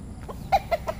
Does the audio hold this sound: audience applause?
no